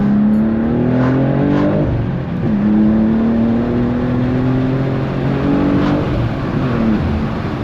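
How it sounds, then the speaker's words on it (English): A BMW M2, a rear-wheel-drive sports car, revs hard under acceleration, its engine note climbing steadily through several gears with brief dips at each shift, loud and close from inside the cabin. "You gotta rev this car out."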